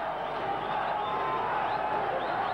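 A boxing arena crowd roars steadily for a South African fighter at a WBC world title bout, a dense, continuous wash of cheering that stays even throughout with no clear breaks.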